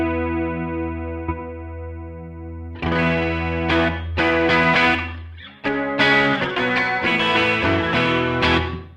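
Electric guitar through a clean chorus effect on an HX Stomp, a sustained shimmering chord followed by several strummed and picked chords with a wavering, doubled tone, loud and close with no talk.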